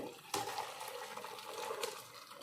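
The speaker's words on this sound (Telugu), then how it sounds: "ఇవన్నీ ఉడికిపోయిన తర్వాత ఇలా వడకట్టుకోవాలండి." Boiled mushrooms for a mushroom biryani are strained into a bowl, with a sharp clank at the start followed by a steady stream of pouring, splashing water close by.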